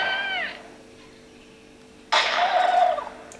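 A cartoonish turkey gobble from a Thanksgiving phone game plays on a Sony Ericsson Live with Walkman handset, a short warbling call at the start, then a brief quiet gap before a louder burst of game sound effects.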